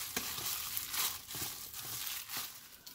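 Wet, squishy mashing and stirring of seasoned ground beef for taquitos in quick uneven pulses, close up, with a crackly sizzle-like texture and no talking.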